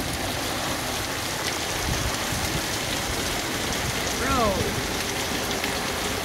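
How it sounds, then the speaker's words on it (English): Heavy rain pouring down during a storm, a dense steady hiss of drops hitting surfaces that fills the whole scene, with a brief voice speaking over it. "It looks foggy because of how much rain there is."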